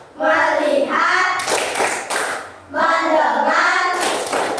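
A class of children chants together and breaks into bursts of rhythmic group clapping, claps alternating with sung voices at close range in a classroom.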